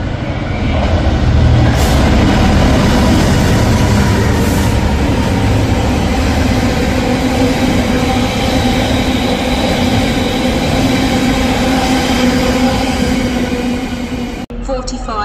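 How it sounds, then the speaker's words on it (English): A train passes through Doncaster station at speed without stopping, a continuous heavy roar with rattling wheels and a high whine, cutting off abruptly near the end. "The train now approaching platform 3 does not stop here."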